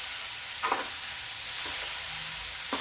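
A vegetable roasts in a pan on a gas stove, giving a close, steady sizzling hiss with a few scraping stirs spaced out over it.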